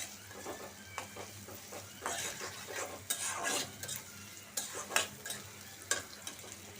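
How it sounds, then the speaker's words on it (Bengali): Onion, green chili and chopped garlic fry in a pan, a steady moderate sizzle with repeated scraping and stirring clinks of a spoon against the pan, with no talking. "রসুন কুচায় দিছি পেঁয়াজ কাঁচামরিচ একটু লাল হয়ে নেয়"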